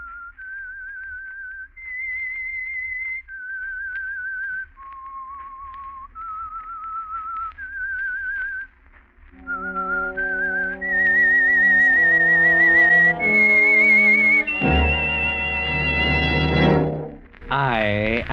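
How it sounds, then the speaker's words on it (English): A clear, melodic whistled signal tune from the 1947 radio drama The Whistler plays alone in sustained notes, then an orchestral swell rises beneath and overtakes it toward the end. "That whistle is your signal"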